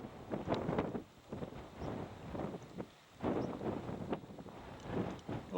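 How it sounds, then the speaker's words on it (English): Gusty wind on a rocky outcrop in Gates of the Arctic buffets the microphone in uneven bursts, rumbling and rising and falling over several seconds with no voices. "A little windy out here."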